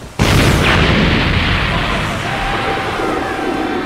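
A cannon shot in a One Piece animated film starts abruptly with a loud blast, then settles into a sustained roar and rumble of a huge ship being destroyed before cutting off sharply.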